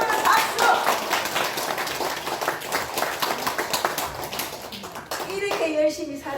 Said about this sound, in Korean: 맞으신 분은 박수!